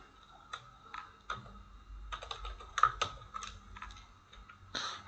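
Typing on a computer keyboard while coding, with quiet irregular key clicks in small bursts and isolated taps, close and alone with no talk.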